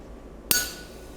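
A single sharp metallic strike of a hammer driving a hot chisel into a forged nail header, ringing briefly with a bright tone before fading out in a quiet workshop.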